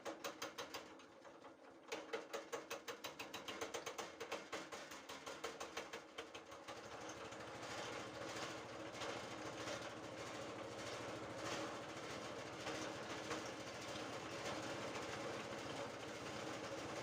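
Engine-driven grinder chopping corn stalks for silage, a rhythmic mechanical clatter in the first seconds settling into a steady, dense roar that continues throughout, fairly faint overall and with no talk.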